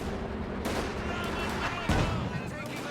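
A flak panzer fires on a Stuart tank in a World War II strategy game, with a few sharp bursts of gunfire in quick succession over dense battle noise.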